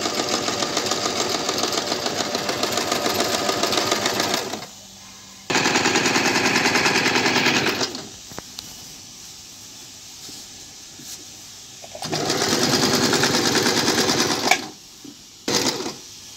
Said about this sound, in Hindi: ब्लोमोर की सिलाई पक्की करने के लिए और एक सिलाई इसके ऊपर से अपन मार लेंगे।